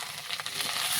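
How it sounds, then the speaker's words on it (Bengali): Tomatoes fry in a pan with onion, ginger paste and garlic paste, giving a soft, continuous sizzle with faint stirring, brief and fairly quiet. "টমেটো দিয়ে এভাবে ভালো করে ভেজে নিয়েছি"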